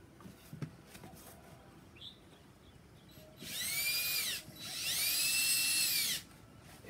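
A power drill drives self-tapping screws into wood while a quail cage is assembled: two loud, sustained whirring bursts, the second longer, with a faint background hum and a few quiet knocks beforehand.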